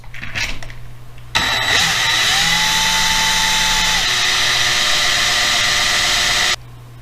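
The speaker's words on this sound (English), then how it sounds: "Now we just simply drill it out." A power drill bores out the base of a diecast model car, whirring up abruptly to a steady high whine that holds for about five seconds before cutting off.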